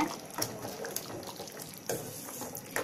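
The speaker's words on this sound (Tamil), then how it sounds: "இதை இப்போ நல்லா கலந்து விடுங்க." Boiling curry being stirred in a pot, with a spoon scraping and sloshing through the bubbling liquid in a few uneven strokes, close and moderately loud over a steady simmering hiss.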